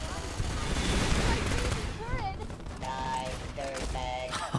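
Sustained automated turret gunfire in Fallout: New Vegas, a dense, loud barrage of rapid shots with brief tonal electronic chirps and a voice talking over the later part.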